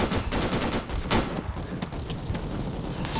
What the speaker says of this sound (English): I was unable to move to you because of a machine gun.